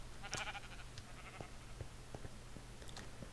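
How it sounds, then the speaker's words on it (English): A sheep bleats in Minecraft with a mod that adds black and lighter-coloured sheep, giving a few short, faint calls over a steady game background hum, with no talking. "See, I guess you could call that a black sheep."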